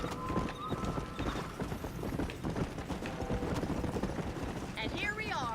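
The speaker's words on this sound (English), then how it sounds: "Can't slow my horse down." Horse hooves clip-clop steadily in the Red Dead Redemption video game as a rider gallops on, a continuous close rhythm under a speaking voice and other game sounds, with a brief whinny-like cry near the end.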